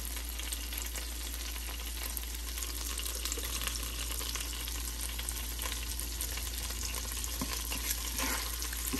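Butter and oil sizzle steadily in a cooking pot, a continuous close frying hiss with a faint low hum underneath and no voices.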